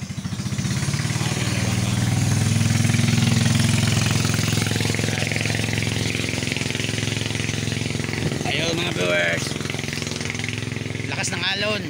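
A loud, steady motorboat engine drone runs throughout on a boat, with people talking over it and a brief knocking near the end.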